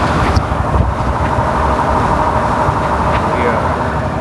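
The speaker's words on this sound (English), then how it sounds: "Let me put down the window. It's gonna get a little windy." Steady wind roar buffets through an open car window while driving in Kansas, a constant rushing noise with low rumble, no clear voices.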